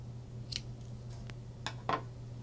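Scissors snip through crochet yarn in a few short, crisp cuts at close range against a quiet low hum, with no talking.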